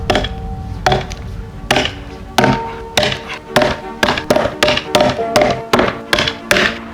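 A homemade mild steel Viking axe chops into an oak log with about fourteen sharp, loud thunks, slow at first and then coming faster in a steady rhythm, each one ringing briefly.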